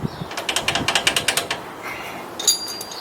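A ratchet rapidly clicks a dozen or so times in an even rhythm while bolts come out of the top of a coilover on a 2018 Toyota Tacoma, followed by a brief metallic clink, close and fairly loud.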